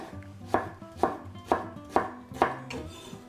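A knife slices through a halved, peeled shallot on a cutting board while gazpacho is being prepared. Five crisp, evenly spaced chops land close and clear, with no talking.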